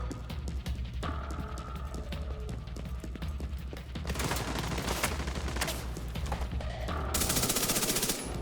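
Sustained automatic gunfire and rapid shot bursts from a firefight in The Division 2, loud and continuous, with the shooting growing denser and louder toward the end.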